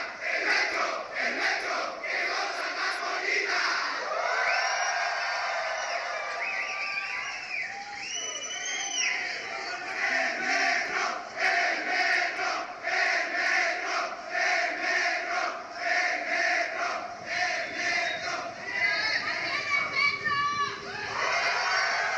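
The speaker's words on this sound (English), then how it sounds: "You start cheering for the subway" A crowd of commuters waiting on a Mexico City subway platform cheers loudly for a late train, with sustained shouting, whoops and chanting voices filling the space throughout.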